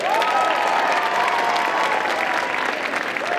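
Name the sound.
audience applause and cheering for the jury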